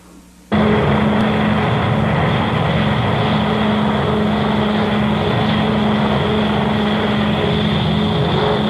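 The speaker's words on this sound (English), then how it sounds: "They have spotted an enemy aircraft, one B-29 heading west." A B-29 bomber flying with a steady, loud droning roar of its propeller engines that starts abruptly and holds constant, dense and close, with no voices over it.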